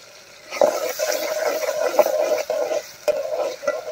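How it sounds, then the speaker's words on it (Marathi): Onions fry in a pan of oil with ginger-garlic paste and bay leaf for an egg masala, giving a close, steady crackling sizzle broken by a few stirring scrapes. "कांदा मस्त असं फ्राय होऊ द्या."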